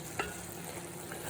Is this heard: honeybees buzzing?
no